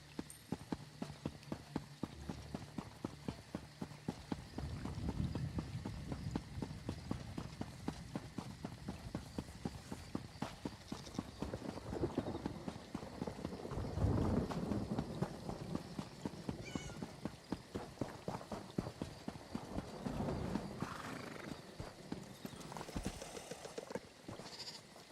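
A horse's hooves clip-clop steadily on ground in Elder Scrolls Online, a quick even rhythm running throughout, with faint game ambience and occasional animal sounds under it.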